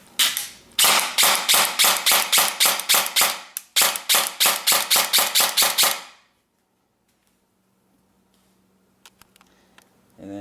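Airsoft gun firing on semi-auto with active braking and a selector issue, giving a rapid run of sharp, evenly spaced loud snaps with one brief pause, then near silence with faint scattered clicks.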